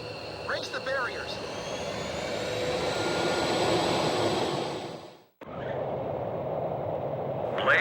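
Fighter jet engines roar steadily on a carrier catapult in Ace Combat 5, swelling in loudness before cutting off abruptly, then resuming with the same sustained whine while radio chatter sounds over it.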